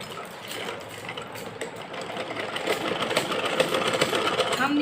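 Sewing machine running straight stitches on fabric, a fast steady mechanical whir and patter, faint and close, under a woman's instructional speech in Hindi.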